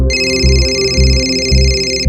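A telephone rings with a steady electronic tone pulsing in a repeating rhythm, loud and close with no voices.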